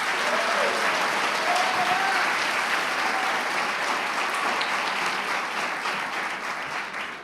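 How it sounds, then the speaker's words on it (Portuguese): Worshippers at a church celebration service break into loud, sustained clapping for God, a thick wash of many hands that holds steady and then eases slightly toward the end. "Agora dê uma salva de palmas para Deus."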